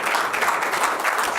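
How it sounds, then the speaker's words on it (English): Audience applause at an Indiaspora event, a brief dense wash of many hands clapping, steady and fairly loud, with no talking over it. "let's give a big round of applause to MR."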